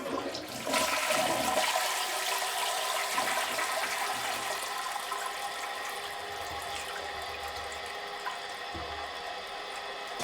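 Toilet being flushed and unclogged with an air drain blaster, water rushing and gurgling through the bowl as a loud flush surges, then a long steady watery hiss with low gurgles, no talking.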